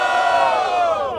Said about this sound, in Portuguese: Aê, barulho pra quem curtiu as rimas do Refrão.